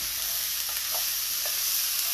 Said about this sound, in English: Let me give you a stir here